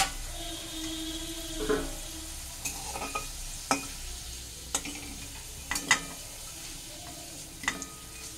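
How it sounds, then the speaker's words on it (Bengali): Fried potatoes sizzle gently in a pan while a utensil stirs and scrapes them out, with sharp clinks and knocks scattered over the steady frying hiss. "এদিকে আলুটা আমার ভাজা হয়ে গেছে, এই আলুটাকে আমি নামিয়ে নিচ্ছি।"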